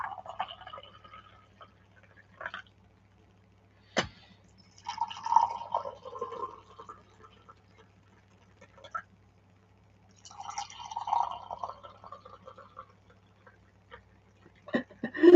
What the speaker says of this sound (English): Bruce was just pouring our Advent tea there.